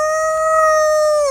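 A person imitates a dog's howl, one long sustained wailing tone that holds steady and loud, then dips slightly at the end, with no other sound.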